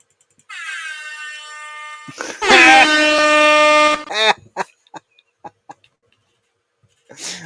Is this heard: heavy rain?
no